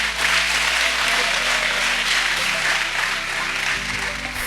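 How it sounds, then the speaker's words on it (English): Steady crowd applause at a kindergarten graduation ceremony, a continuous wash of many hands clapping at an even level throughout, with a low hum running underneath. "Another round of applause,"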